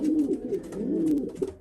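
Racing pigeons cooing close by, a low throaty rolling coo repeated a few times in quick succession, with light rustling and scratching mixed in.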